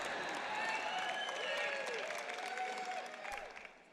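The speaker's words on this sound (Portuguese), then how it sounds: "aquele pessoal ali está aplaudindo mais do que vocês" Applause from a church audience during a sermon, a broad steady wash of clapping that fills the whole stretch and thins slightly toward the end.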